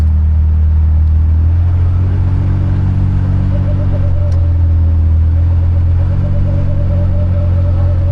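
International 1206 Wheatland tractor with front wheel assist at a vintage farm show in Rantoul, Illinois, its engine running in a loud, steady low rumble with a faint whine, close by.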